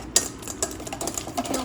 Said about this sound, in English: So then we have to whisk the eggs until smooth.